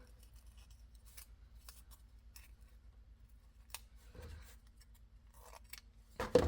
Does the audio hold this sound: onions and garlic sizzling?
no